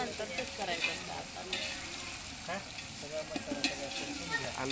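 Garlic paste fries in a pan for veg biryani, a moderate sizzle running throughout with scattered stirring clatter, fairly quiet and near, with faint voices in the background.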